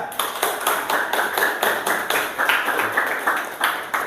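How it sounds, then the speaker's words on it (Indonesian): Class of teacher trainees clapping for a presenter, a rhythmic burst of fairly close hand claps in an even, repeated pattern, nearly eight beats to the second. "Tepuk tangan buat Mas Yuda"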